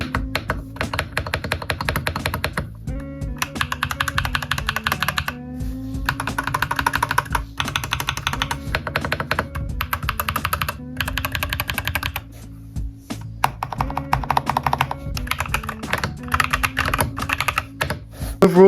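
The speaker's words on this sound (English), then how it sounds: "I haven't forgotten the keyboard sound test." A custom-built mechanical keyboard for a Mac setup is typed on without pause. Keystrokes clack close and crisp in a quick, steady stream, with occasional heavier thocks, and no voices.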